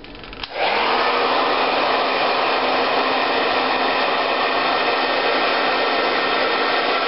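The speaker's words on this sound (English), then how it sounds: "you take your hairdryer and you set it to high" A hair dryer clicks on and roars steadily at full power, a loud, even whoosh of blowing air that continues without pause.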